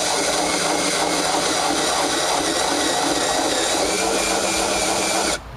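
Up close, a power drill runs at full speed with a loud, unbroken whirring roar and grind for several seconds, then cuts off abruptly at the end; nobody speaks.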